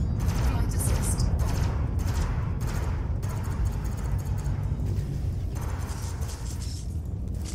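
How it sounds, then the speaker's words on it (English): A ship's cannon fires in the space combat game Elite Dangerous, rapid bursts of heavy thumping shots layered over a constant engine drone, loud and sustained throughout. "I dislike this cannon quite a lot already."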